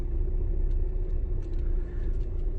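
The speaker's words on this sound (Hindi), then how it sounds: "मैं उसके पास लेके चलता हूं गाड़ी को।" A car being driven slowly toward a tractor while a driving lesson is underway, giving a steady low engine and road rumble throughout, close and continuous with no talk.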